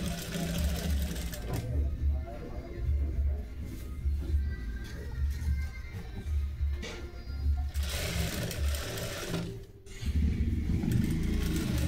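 Sewing machine running steady stitches along a blouse collar at a tailoring class, a continuous low mechanical whir with brief pauses, with someone talking over it.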